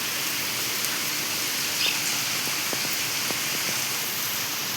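Heavy rain falls steadily in a steady, even wash of hiss with no pauses, a few faint patters and knocks standing out now and then, close and unbroken throughout.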